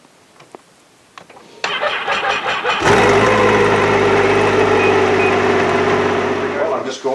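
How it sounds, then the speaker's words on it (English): A snowmobile engine cranks with a few short bursts, then catches and settles into a loud, steady running roar close by on a calm, cold morning. "let's fire up the skidoo"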